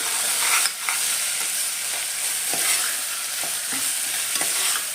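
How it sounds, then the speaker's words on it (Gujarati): A dish mixed with salt and garam masala is stirred in a frying pan, sizzling steadily with repeated scraping strokes of the spoon, close and moderately loud, with no speech. "બધું મિક્સ કરી દઈએ"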